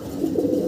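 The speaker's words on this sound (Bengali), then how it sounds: "গিরিবাস কবুতর দেখাইতেছি আপনাদের।" Giribaz pigeons cooing in a cage, a soft, low, continuous burbling coo close by, lasting under a second.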